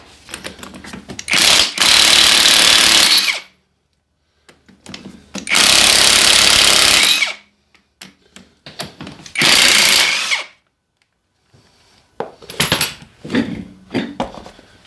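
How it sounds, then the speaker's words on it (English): A Bauer battery impact wrench removes the wheel nuts from a John Deere skid-steer, firing in four loud, close hammering bursts of a few seconds each, separated by quiet gaps with light clanks. "This little battery impact makes a world of difference, makes this so much easier."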